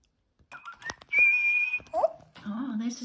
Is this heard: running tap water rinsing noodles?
no